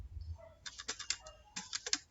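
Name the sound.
typing numbers on a computer keyboard into Excel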